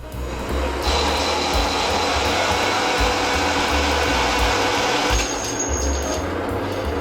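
A machine steadily cuts out the inner diameter of a metal driveshaft coupler for a turbocharged V8 jet ski, giving a loud, continuous whirring roar. A thin high whine appears near the end.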